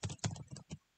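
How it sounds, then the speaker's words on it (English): Quiet typing on a computer keyboard, a short burst of four or five soft key clicks close to the mic, then silence. "So just start typing"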